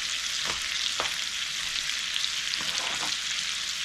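Kielbasa sausage pieces with potatoes and bell peppers fry in a pan, giving a steady close sizzle with a few soft scrapes of stirring and no talk.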